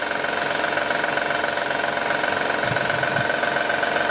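A 2010 Honda Odyssey engine idling with a steady, close mechanical rattle and hum, faint knocking pulses near the end; no voices.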